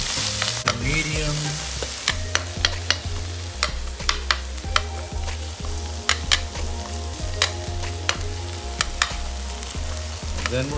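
Vegetables stir-frying in olive oil in a pan over medium heat, a steady sizzle broken by frequent sharp clicks and scrapes of a utensil stirring against the pan, close and loud with no talking.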